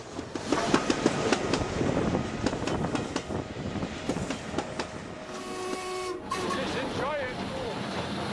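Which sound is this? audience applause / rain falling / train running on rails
train running on rails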